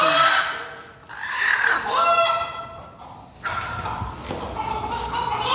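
Native Bangladeshi chickens cluck and a rooster crows up close, loud and overlapping, with a brief break before more squawking resumes.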